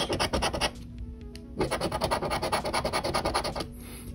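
A coin scratches the bonus area of a New York Lottery scratch-off ticket in close, rhythmic strokes, with a brief pause partway through before the scraping picks up again.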